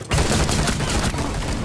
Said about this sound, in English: I think I'll shoot the bomb.